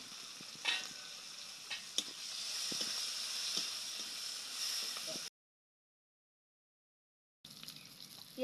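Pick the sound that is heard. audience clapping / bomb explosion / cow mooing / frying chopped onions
frying chopped onions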